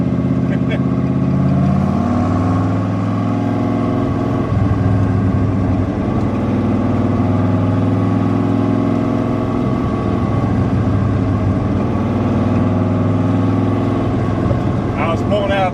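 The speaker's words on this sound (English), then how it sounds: "that thing sounds like a speedboat with a V8 in it. The rumble of its idle" A big block 1966 Corvette Stingray V8 rumbles at idle and rises briefly in a rev near the start, a deep steady close engine drone that continues throughout while people talk over it.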